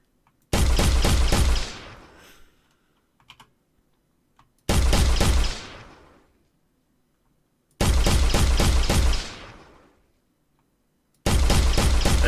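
Gunfire from a shooter game in development comes in four loud, evenly spaced bursts of rapid shots, each lasting about a second and fading quickly, separated by near silence with a few faint clicks, and no talking.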